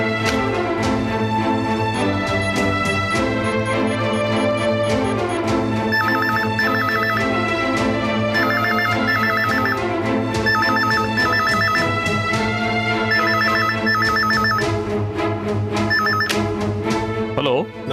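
A phone ringing with a loud electronic melodic ringtone in a Tamil fantasy comedy series scene, a bright repeating chime pattern that plays continuously for the whole stretch.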